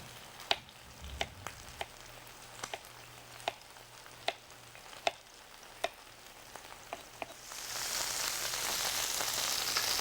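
Chicken pieces frying in a pan for an Asian-style cashew chicken dish, a soft steady sizzle with sharp scattered pops and spatters, swelling into a louder hiss toward the end, with no talking.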